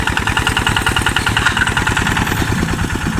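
A car engine running while the car is driven, a loud, steady mid-pitched drone with a regular pulsing throb that holds close and constant throughout.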